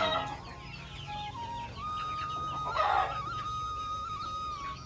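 Native village chickens cluck and call in a climate-controlled poultry shed, several birds layered in a busy, continuous chorus at close range with one louder call rising in the middle.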